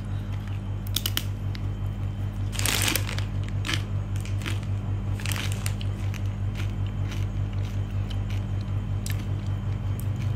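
Original Salted Doritos chips crunch in a few sharp, close bites over a low steady hum, with quieter crackles in between.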